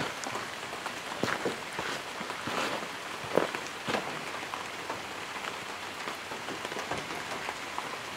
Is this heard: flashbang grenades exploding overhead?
no